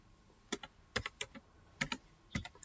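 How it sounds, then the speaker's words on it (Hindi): Quick, light tapping on a computer keyboard, a handful of close, uneven keystrokes in short bursts, fairly quiet with no talking over it. "so I am typing template over here"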